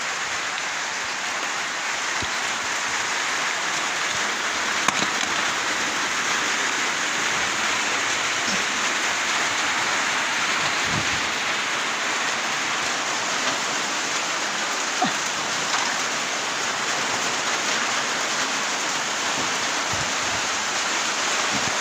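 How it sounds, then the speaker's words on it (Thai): Steady rain falls outdoors, a dense, even hiss of drops on surfaces that runs unbroken throughout, with a few faint knocks and no talking. "โอ้ฝนกำลังลงเม็ดด้วย"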